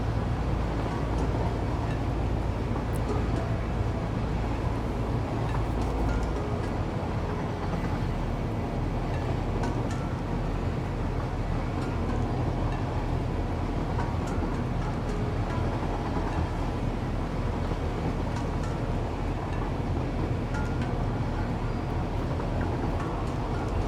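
A train rolls along rails in the factory-building video game Satisfactory, a continuous loud rumble with faint clickety-clack texture and no break across the whole stretch.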